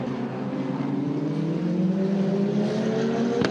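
Eurocup-3 single-seater race cars battle for position on the Jerez circuit, their engines holding a loud high-pitched drone that rises steadily in pitch as they accelerate, with no talk over it.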